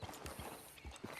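Horse hooves clip-clop in Red Dead Redemption 2 Online, a faint, uneven series of soft thuds at a walking pace under a low background hum.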